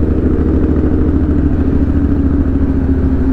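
A convoy of motorcycles, among them a BMW S1000, rides past on the street in a loud, continuous, close engine rumble with busy clatter and no talking.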